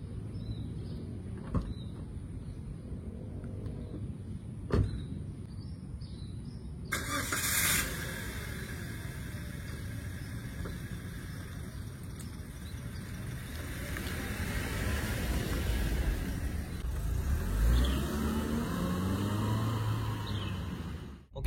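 A 2018 Toyota Calya starts up and sets off on a test drive: a few faint clicks, a burst as the engine catches, then a steady engine and road hum that slowly builds as the car gets moving, with no talking.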